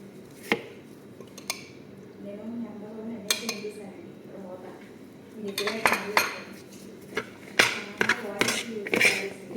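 A spoon stirs and clinks against a bowl as salad is tossed with sauce, light scraping punctuated by sharp metallic taps growing busier toward the end, close by and fairly quiet.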